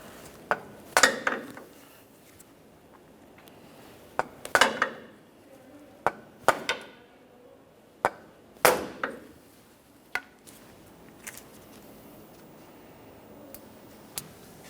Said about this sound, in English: For this, I'm using a pry bar and a hammer, a couple light taps, should get it broken free